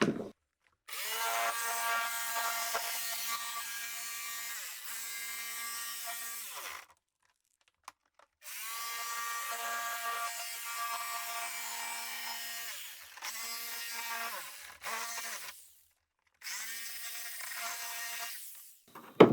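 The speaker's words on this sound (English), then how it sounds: "right now I'm going to be using a jigsaw" A jigsaw cuts a hatch opening in a Shadow Caster kayak hull, its loud buzzing whine running in several long bursts with short silent pauses between cuts.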